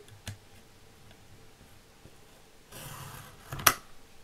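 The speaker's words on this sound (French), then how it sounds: "Alors après, on prend la petite lame. On découpe ici. Tout le long." A small blade cutting paper on a punch board, a faint steady scraping stroke followed by a sharp click, quiet and close, with no talk.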